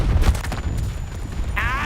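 A Battlefield 2042 explosion opens with deep, loud booming rumbles, then fades into a continuous game din as someone talks over the noise.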